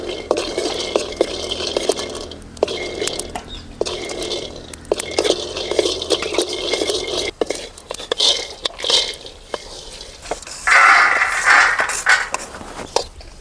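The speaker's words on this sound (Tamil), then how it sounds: "கடலைக்கொட்டை நல்லா வெடிக்குது." Peanuts crackle and pop in hot oil in a pan for a brinjal and drumstick gravy, with irregular sharp bursts mixed with stirring and metal utensil clatter nearby.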